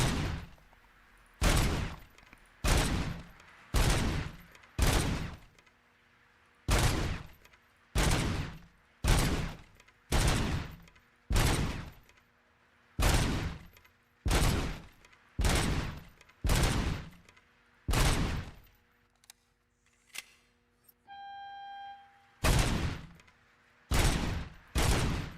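Pistol shots in Diablo 4, roughly twenty loud, evenly spaced blasts with short pauses between them and a brief electronic chime near the end, with no talking.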